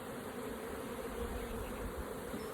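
Honey bees inside a beehive produce a steady, dense, high-pitched buzzing that stays even and close throughout, with no talk.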